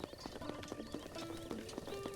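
Horse hooves clip-clop in a steady rhythm with short neighs in Zelda: Breath of the Wild, close and fairly loud over game music, with no talk.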